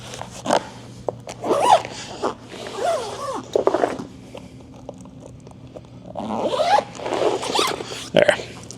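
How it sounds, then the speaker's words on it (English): A zipper on a golf bunker bag is pulled closed in several quick, close rasping strokes, with short pauses between pulls and another run near the end. "And you just zip it up and it's kind of like a suitcase."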